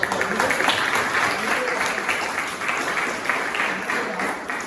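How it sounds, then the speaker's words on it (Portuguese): Church congregation applauding during a sermon, a dense, even patter of many hands clapping at moderate volume throughout, slightly distant and fading a little toward the end. "Vamos dar um aplauso"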